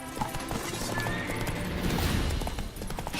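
Roach, Geralt's horse in The Witcher 3 game, galloping along, with rapid rhythmic hoofbeats close and steady throughout and a brief neigh mixed into the game's ambient sound.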